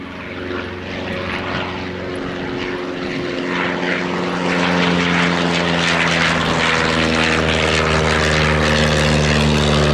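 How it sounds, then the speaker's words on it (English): Two Piper L-4 propeller aircraft flying past at the Shuttleworth Old Warden military air show, a loud, steady droning engine hum that grows fuller and louder as they approach. "With many Tigers flying in around the bend from the left are the 2 Piper L-4s."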